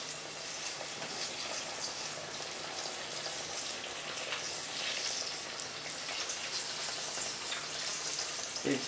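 Food frying in hot oil for a French home recipe, a steady dense sizzle and crackle running throughout, close and fairly loud with no talking.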